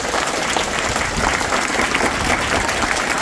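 Loud, dense applause from an audience fills the moment at a birthday event held for students at a Zilla Parishad school, steady and sustained throughout.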